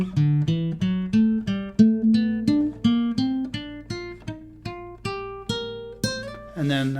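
Guitar picking an ascending 1-2-3-5 major scale figure from the root of each chord in a Giant Steps jazz progression, a steady run of clear plucked notes ending on a strummed chord, with no talking.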